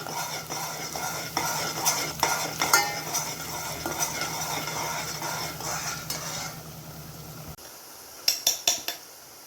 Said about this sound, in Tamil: இன்னும் நல்லா கிளறி விடணும்.